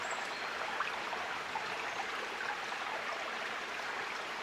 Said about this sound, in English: listening to the babbling of a brook